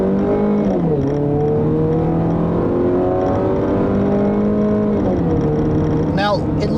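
A 2014 Jeep Cherokee Sport four-cylinder engine pulls steadily, its smooth drone rising in pitch through gear changes, heard from inside the cabin with a voice talking over it.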